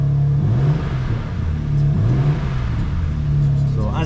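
A G87 BMW M2 with its exhaust valves programmed open, idling with a deep steady rumble and small blips after start-up, loud and close, with someone talking over it.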